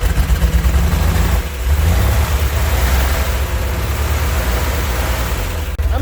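A Chevrolet Corvair Lakewood engine turning over while trying to start, a loud, continuous churning drone close by with a brief dip near the start and no talking.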